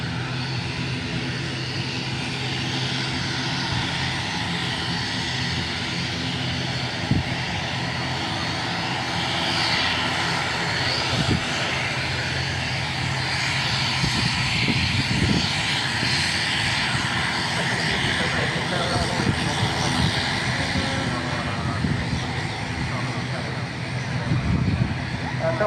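Aer Lingus ATR 72-600 turboprop airliner landing and taxiing at Manchester Airport, a continuous loud propeller and engine drone with a rough, rumbling texture that holds steady throughout, with voices talking underneath.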